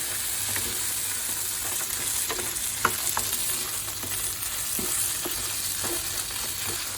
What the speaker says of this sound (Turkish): Bu arada bezelyelerini kavurmak istiyorum.